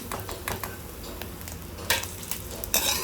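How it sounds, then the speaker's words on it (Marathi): Pieces of edible gum (dink) frying in hot oil for dry fruit laddu, a steady close sizzle with bursts of crackle and scraping stir strokes, two louder spattering flares near the end. "थोडं थोडं डिंक टाकायचं आहे आणि तळून घ्यायचं"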